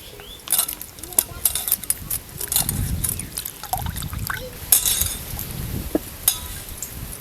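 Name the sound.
washing tender bean pods in water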